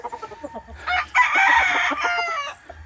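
Roosters crow and chickens cluck across a wide farm yard full of fowl, with one long, loud crow in the foreground after a run of softer clucks.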